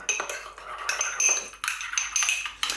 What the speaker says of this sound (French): je mets une cuillère à soupe de mayonnaise et 2 cuillères de pâte de curry. Alors, ensuite, je mélange